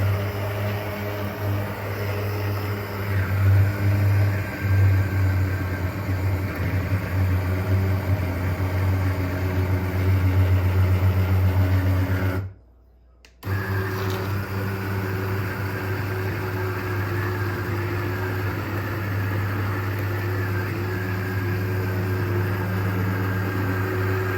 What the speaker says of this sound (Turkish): Ben de blender ediyorum.